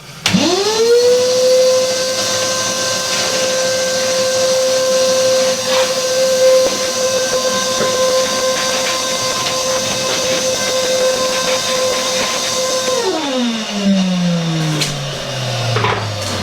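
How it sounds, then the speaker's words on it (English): A shop vac fitted with an attachment vacuums dust off interior walls: the motor whines up quickly, holds a loud, steady drone with light bumps and rustles, then winds down in a falling whine. "I've just put the attachment onto the shop vac, and I'm just going to vac the walls down to get the main dust off"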